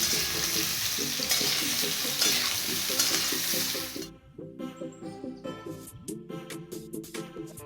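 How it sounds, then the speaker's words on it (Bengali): Potatoes fry in hot oil in a kadai and get stirred. A steady loud sizzle carries rhythmic scraping strokes, then quiets midway into softer, repeated stirring scrapes. "আলুগুলোকে ভালো করে ভাজতে লাগলাম"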